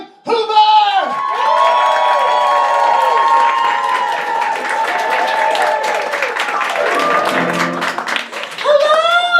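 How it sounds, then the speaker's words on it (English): A cabaret audience at a New York cosplay event whoops and cheers for the host over clapping, with loud, high shouts and screams sustained for the whole stretch and swelling again at the end. "please give a round of applause to our very own TARDIS and host for this evening"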